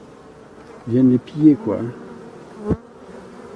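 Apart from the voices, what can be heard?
honey bees buzzing at a hive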